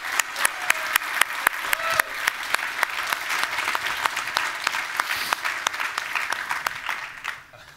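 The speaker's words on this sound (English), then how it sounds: "That's great. I wasn't expecting applause" Audience applause welcoming the host at a music event for the game Uncharted 4, sustained loud clapping from a large crowd with sharp individual claps standing out, tapering near the end.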